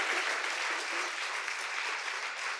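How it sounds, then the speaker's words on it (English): Sustained audience applause for a conference panel, a dense steady wash of many hands clapping together at an even level with no talk over it. "if we give them our panel a round of applause."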